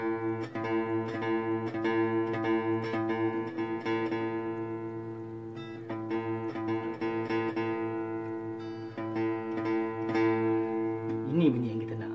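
A guitar's second string is plucked repeatedly, tuned to E, with bright ringing notes that start sharply and fade, then are picked again at an unhurried pace, close and alone without talk.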